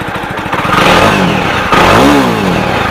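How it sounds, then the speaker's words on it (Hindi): A Jawa 350 motorcycle engine runs right after a self-start, revving up and down with a throaty, near, loud note and some mechanical clatter, with no talk over it. "स्टार्ट हो गई है जावा मोटरसाइकिल"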